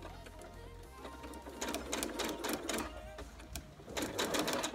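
A domestic sewing machine backstitches to finish a seam on a boat-neck top, its needle running in a steady rapid whir that starts, pauses briefly and resumes, with a low motor hum throughout.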